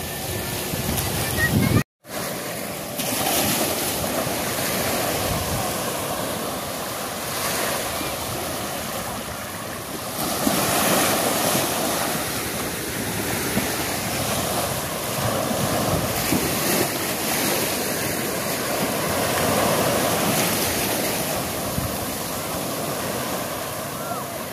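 Sea waves washing against a shore, a steady broadband roar with gentle swells and some wind buffeting on the microphone, after a brief handling thump near the start.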